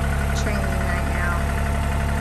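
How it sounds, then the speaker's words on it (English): A new tractor engine idles steadily at close range, a loud continuous rumble with vibration. "have been loving this new tractor, and it's such a blessing to have"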